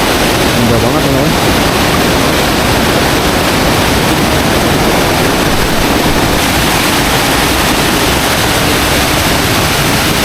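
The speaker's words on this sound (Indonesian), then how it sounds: "Ini Masya Allah, curugnya indah banget, teman-teman. Dan sangat deras ya." A strong, fast-flowing waterfall in a forest near a remote village gives a loud, continuous roar of rushing water that fills the whole clip without letup.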